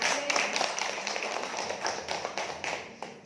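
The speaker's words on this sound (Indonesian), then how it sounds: "tepuk tangan" A live religious gathering audience claps, brisk scattered hand claps overlapping into a fairly close, lively burst of applause that fades slightly toward the end.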